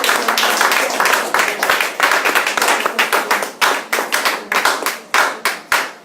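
Church congregation clapping in praise during a service, loud close rhythmic handclaps in a steady beat that thins toward the end, with voices underneath.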